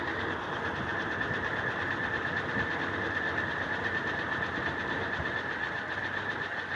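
A small engine idles roughly and close to stalling while its idle screw is turned with a screwdriver, giving a steady, droning run with no talk over it.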